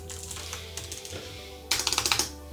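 Keys clatter on an Alienware X16 R1 gaming laptop keyboard: a few scattered soft presses, then a quick burst of crisp, clicky strokes in rapid rhythm, close and loud over a faint background hum.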